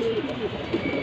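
Pigeons, a khaki male and a chuina female, coo in low, soft throaty murmurs that carry steadily through the second, up close and fairly full.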